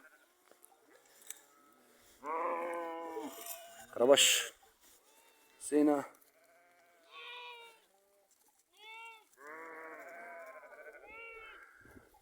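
Sheep on a farm bleat several times at close range, with long quavering calls separated by pauses, and a voice calls out briefly among them.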